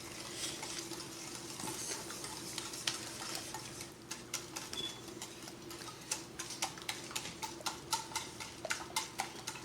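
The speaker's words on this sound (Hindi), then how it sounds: "ये आधा कप चीनी डाल के हम फिर इसको अच्छी तरह से मिक्स करेंगे" Four eggs and half a cup of sugar being mixed in a bowl for whole wheat French toast: a soft, steady background wash, then a quick run of regular light clicks from whisking or stirring, close and quiet, no voices.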